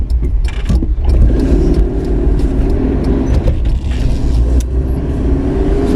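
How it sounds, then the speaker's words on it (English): A Citroën GSA engine runs close and loud on the road, a steady mid-pitched hum with bursts of revving and rattling under a continuous rumble. "Can you even tell my GSA is running?"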